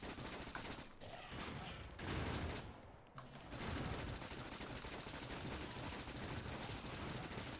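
Rapid, sustained bursts of turret gunfire in the Factorio video game, dense and continuous throughout with a brief lull in the middle before resuming at full loudness.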